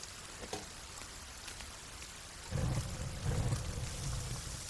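Rain falls in the survival video game Sons of the Forest, a soft continuous hiss of steady downpour that thickens and grows a little louder partway through, with no talking over it.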